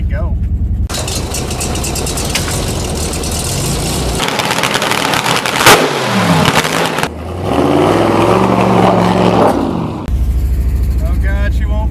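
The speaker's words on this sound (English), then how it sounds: "I gotta keep her revved in neutral or she's gonna die" The engine of an old Chevrolet K20 truck, long left in the woods, drones close up while revved in neutral to keep it from stalling, its pitch rising and falling, with abrupt shifts in tone and a voice speaking over it at times.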